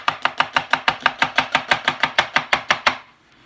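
A knife julienne-cuts an onion on a cutting board: about seventeen rapid, evenly spaced crisp chops close up, then stopping, with no voices.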